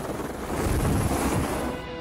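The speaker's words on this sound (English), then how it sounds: "There's a chopper behind me, isn't there?" A nearby helicopter at an aerial film location churns with a rumbling, throbbing low roar that swells after a quieter start, then eases slightly toward the end.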